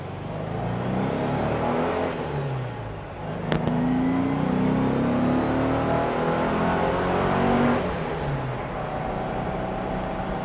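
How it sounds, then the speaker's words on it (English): Porsche 356 engine under load and coasting, its note dropping on a downshift as the car slows, with a faint rising gear whine from the ring and pinion beneath the steady engine drone, recorded from inside the car. "You hear a little bit of whine from the ring and pinion when you downshift"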